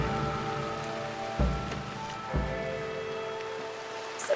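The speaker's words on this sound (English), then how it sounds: "it's raining." Rain falls steadily in Red Dead Redemption 2, a soft constant patter with a few dull low thumps partway through and no voices.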